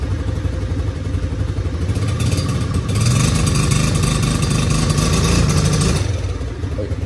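A 2019 Suzuki LTZ50 youth ATV engine idles close by after a fuel delivery repair, a steady mid-pitched putter with light mechanical clatter that rises slightly in level partway through and then settles back.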